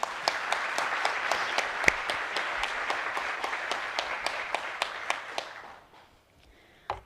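An audience at a school board meeting breaks into steady applause that fills the room and then fades out, with a couple of claps after it stops.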